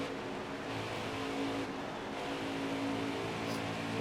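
A stock car engine drones steadily in a NASCAR Heat 4 race, a continuous, fairly quiet hum with no clear changes in pitch or speed.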